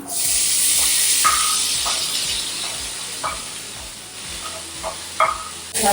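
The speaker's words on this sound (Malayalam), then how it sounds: "ഇനി നമുക്കിതിലേക്ക് അരിഞ്ഞ് വെച്ച തക്കാളിയും പച്ചമുളകും ആഡ് ചെയ്യാം." Chopped tomato and green chili sizzle and fry in a pan for a Malayalam egg breakfast, a steady loud hiss with soft scattered clinks of stirring throughout, no voices.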